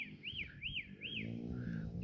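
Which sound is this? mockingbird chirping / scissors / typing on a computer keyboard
mockingbird chirping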